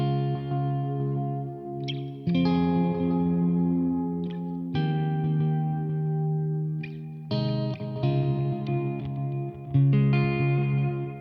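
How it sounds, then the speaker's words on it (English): Electric guitar played through a Keeley Electronics Halo dual echo delay pedal, with reverb added: sustained chords and melodic phrases ringing out with repeating echoes and a spacious, washy tail, played alone throughout. "So I've found a delay sound I'm into."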